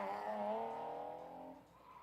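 A supercharged Ford 6.0-liter car slides under the e-brake, its engine roaring loud and close with a layered harmonic whine that eases slightly toward the end.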